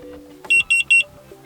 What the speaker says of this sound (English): Right now we can hear notification